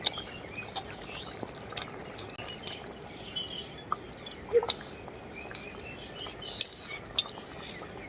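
Fried fish goes into a pan of well-boiled, sugar-sweetened curry gravy and gets stirred, giving faint scattered utensil clinks and soft wet bubbling over a steady low background, with no talking.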